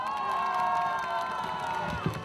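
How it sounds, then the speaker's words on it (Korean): Outdoor campaign rally crowd for the Liberty Korea Party near Hwagok Station cheering and shouting in a steady, dense wash of voices with sustained tonal whistling or chanting, a sharp thump near the end. "여러분 박수 크게 한번 보내주십시오"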